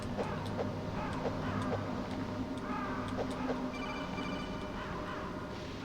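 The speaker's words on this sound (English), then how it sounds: "Really? A phone call?" Codec call ringing in Metal Gear Solid, a repeating electronic beeping ring pulsing at a steady rhythm over game background noise and a low hum.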